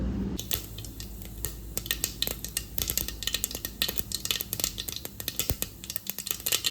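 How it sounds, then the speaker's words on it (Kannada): Mustard seeds are added to a hot pan while cooking mango chitranna, giving a steady run of close, dense crackling and sizzling pops that continue throughout with no talk. "ಇವಾಗ ನಾವು ಇದಕ್ಕೆ ಸಾಸಿವೆನ ಹಾಕ್ಕೋಬೇಕು"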